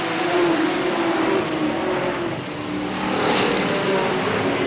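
Sportsman race cars roar around the oval at Hales Corners Speedway, a loud sustained engine drone that swells, dips and swells again as the pack passes, with no talk.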